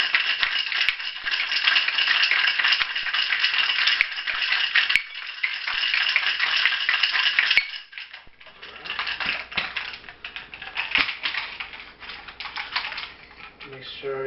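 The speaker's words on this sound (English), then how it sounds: "And we shake our ingredients." A shaker tin holding gin cocktail ingredients is shaken hard, a fast, dense rattle of ice against metal that goes on for several seconds and then turns into looser, scattered clinks.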